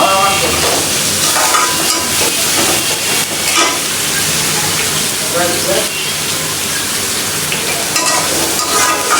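Bitter gourd (karela) frying in a pan while being stirred, a loud continuous sizzle with scraping stir strokes throughout, close up and steady.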